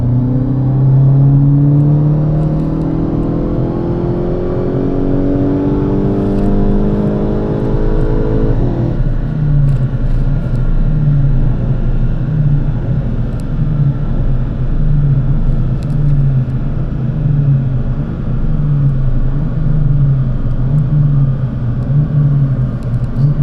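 A tuned 500 hp Volkswagen Golf 8 GTI engine revs steadily up under load at 2 bar turbo boost, then settles into a loud, even high-speed drone with a pulsing rhythm on a dynamometer, close by.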